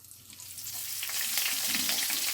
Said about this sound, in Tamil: இந்த கடுகு பொரிஞ்சிட்டு அதுக்கப்புறம் வெங்காயம் போடுறேன்